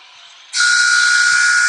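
A loud, sustained referee's whistle at an ice hockey playoff game sounds abruptly about half a second in, holding steady and shrill to the end over faint arena background.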